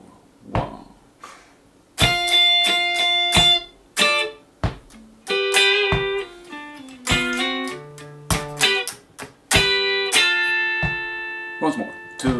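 Clean electric guitar picks out a lick, bright plucked notes and short repeated phrases with gaps between, played solo and close.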